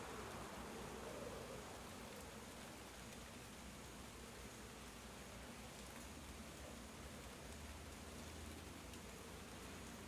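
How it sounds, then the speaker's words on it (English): Heavy rain pours down steadily, a dense, even hiss of drops that continues without a break. "it's raining really hard out. So that's like a rainstorm that you're hearing in the background"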